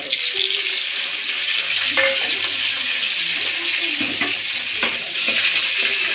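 Loud crackling sizzle of mustard seeds and chillies frying in hot oil for horse gram rasam, with a few clinks and stirring sounds over the steady hiss.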